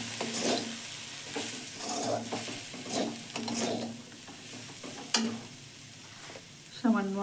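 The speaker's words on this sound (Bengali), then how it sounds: "এবার এগুলো দিয়ে একটু ভেজে নেব।" Banana flower fried with ground coriander, cumin and garam masala over low gas, sizzling softly while a utensil scrapes and stirs in repeated strokes, with a couple of sharper knocks near the end.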